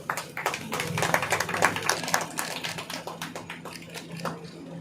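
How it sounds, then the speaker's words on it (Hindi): Audience applause at the opening ceremony of a women's and children's hospital: a dense stretch of many hands clapping at once, moderately close and holding steady without voices. "जोरदार तालियों के साथ सर का आभार प्रकट करना चाहिए हम सभी को।"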